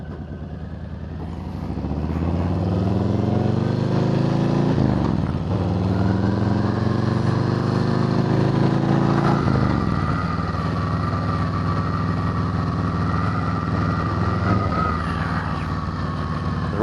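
A 2020 Harley-Davidson Softail Standard motorcycle rides steadily, its deep V-twin engine droning close and loud, pitch climbing through gears with a couple of brief shifts before holding a level cruise.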